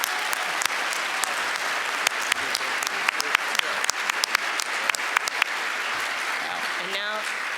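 An audience applauds an award recipient at a children's advocacy symposium, a steady room-filling wash of clapping with sharper individual claps standing out, lasting throughout and fading slightly at the end.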